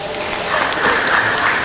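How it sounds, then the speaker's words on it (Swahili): Audience applause at a large party meeting, a dense, loud wash of many hands clapping that rises slightly midway and holds steady through the short stretch. "Makofi tena"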